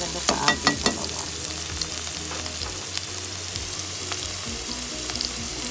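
Pechay sautéed with Ligo canned sardines in a pan, a loud close sizzle opening with a quick run of metallic spatula clacks, then steady frying with occasional scrapes.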